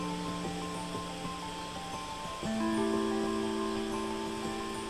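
A thin white stream of water pours from Elephant Rock, a rock formation in a mountain valley at Gihwa-ri, Pyeongchang. It makes a steady, continuous rushing wash that swells louder about halfway through, with no voices present.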